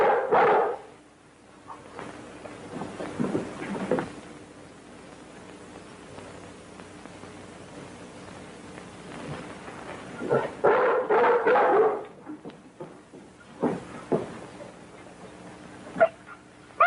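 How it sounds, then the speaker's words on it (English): A dog gives several scattered barks and yips at moderate distance, with quiet gaps between bursts and a fuller cluster near the middle. "Maybe the dog has scented something."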